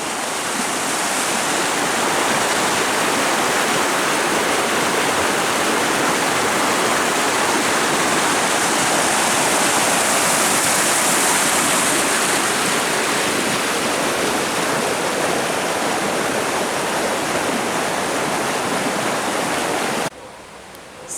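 Waterfall near Hinohara, Japan, a steady loud rushing roar of falling water that fills the whole clip evenly at close range before dropping off slightly at the very end.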